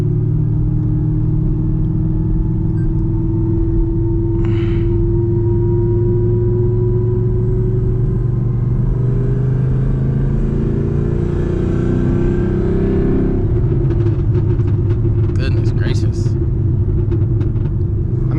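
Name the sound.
900hp manual Camaro ZL1 engine rumbling while driving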